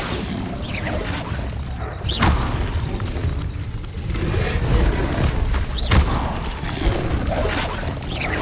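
Bombarda spell blasts in Hogwarts Legacy erupt as loud booming crashes over continuous battle noise, with two sharp impacts standing out amid the rumbling, whooshing combat din.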